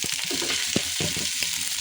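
Baim fish, eel, dropped into spice paste frying in a pan, giving a loud continuous hiss and sizzle with soft clattering bursts as the pieces settle and are stirred, close up.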